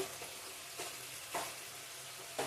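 Ground spices such as cumin and coriander sizzling and being stirred in a pan for a Bengali potato, cauliflower and paneer curry, a soft, steady frying hiss with a few scraping stirs.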